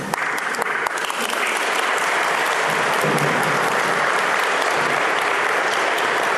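Steady, full applause fills a church congregation, dense clapping from many hands that holds evenly from start to finish with no voices over it.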